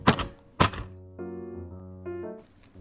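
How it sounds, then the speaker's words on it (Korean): A fork pokes holes in plastic wrap stretched over a bowl of sliced sweet potato: two sharp, close taps in quick succession, then only quiet background music. "포크로 콕콕."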